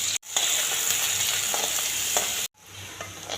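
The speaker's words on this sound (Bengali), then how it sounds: "সর্ষে তেলের মধ্যে পেঁয়াজ কুচি আর রসুন কুচি দিয়ে দিচ্ছি" Chopped onion and garlic sizzle steadily in hot mustard oil, a loud, close, continuous crackle broken by two brief silent cuts, with faint stirring clinks.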